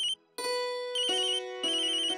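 A mobile phone ringtone plays a bright melodic phrase that repeats about three times, loud and close, with a brief gap near the start and no talking over it.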